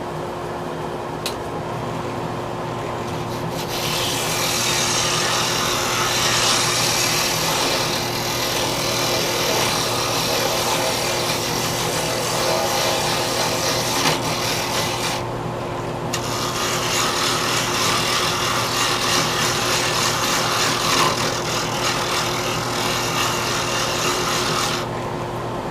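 A wooden pen blank spinning on a lathe as a tool cuts and tapers it, a continuous loud raspy scraping over a steady motor hum, with brief pauses in the cutting.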